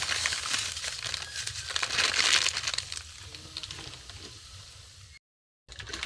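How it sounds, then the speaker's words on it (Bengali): Semolina fries in hot ghee with a steady, crackly hiss close by, louder at first and then settling. A short silent gap comes near the end. "সুজিগুলোকে আমি প্রথমে ভেজে নেব।"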